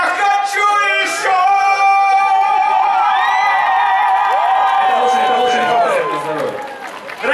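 A concert audience cheering and whooping at a birthday show for Muz-TV, a loud sustained crowd roar with shouts rising over fading music, while a presenter's voice carries through on top.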